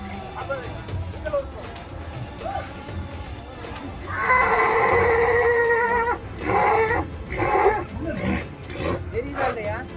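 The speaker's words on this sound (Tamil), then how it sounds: "இது டூ டீட் கோல் இரண்டு பல் குதிரை இன்னும் வளரும் நிலை" Horse neighing at a horse riding show competition in Anthiyur, a loud drawn-out whinny with harmonic bands in the middle of the clip, followed by shorter calls, over crowd noise and people talking.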